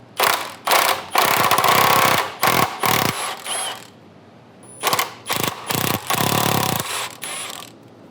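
Hand tools ratchet away at heat shield nuts around the downpipe of a 2015-2021 Subaru WRX with an FA20F engine, giving close bursts of rapid clicking separated by short pauses and faint metallic clinks.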